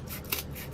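Scissors cut out pieces for a craft project, making short, close rasping snips that repeat in quick succession with no talking.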